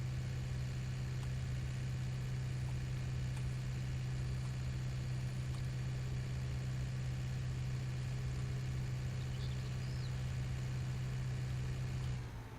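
A tractor engine in Farming Simulator 19, in the Alpine setting, running steadily at a constant low drone with a strong hum throughout, alone with no talk, easing off slightly at the very end.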